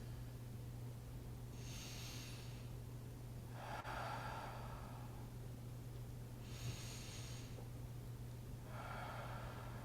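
Slow, quiet breathing during a seated yoga pose, two audible inhale and exhale pairs spaced evenly several seconds apart over a low steady hum, with no talking.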